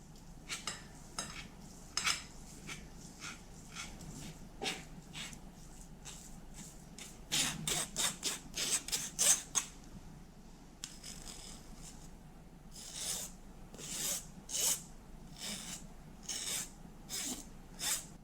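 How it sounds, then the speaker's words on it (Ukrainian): Soft scraping and rhythmic tapping of a spoon pressing cottage cheese through a metal sieve, with brief pauses and clinks, fairly quiet and close. "Я просто перетру через сито та і все."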